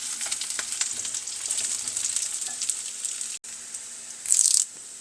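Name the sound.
small onions and dried red chillies frying in a pan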